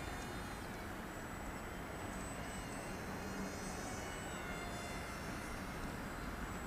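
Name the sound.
Z51 Predator beginner RC airplane flying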